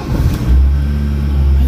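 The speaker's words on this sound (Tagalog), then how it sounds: "Okay, so gawin na natin, i-start natin yung makina." A Honda Fit (Jazz) engine with an overheating problem runs with a steady low, loud drone. A brief surge near the start settles into an even idle, and no one speaks.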